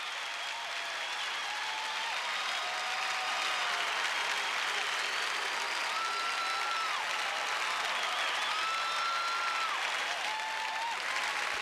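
Crowd at the Albertville 1992 Winter Olympics applauding and cheering a gold medal win, a steady, dense roar of clapping and voices that holds at the same level throughout with no pauses.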